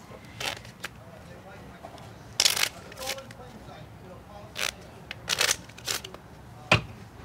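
A deck of playing cards being shuffled at a live telethon magic segment, heard as several quick, crisp riffling bursts up close, with speech around them.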